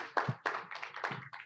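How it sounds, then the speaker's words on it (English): A few people clap for the leadership team at a Senate Democratic Caucus gathering, giving sparse, distinct hand claps in an uneven rhythm, close by and fairly quiet. "And if you would give them a round of applause."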